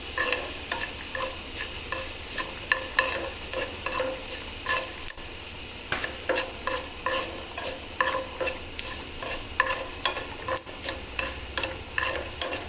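Vegetables for totakura pulusu fry in foaming groundnut oil, a steady sizzle with repeated scraping stirs and clinks of a spatula against the pan at an even rhythm, close and alone with no talk.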